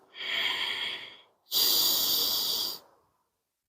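Two deep breaths during a yoga breathing cycle in a cardio yoga class, close and alone: a long airy inhale, a short pause, then a stronger rushing exhale.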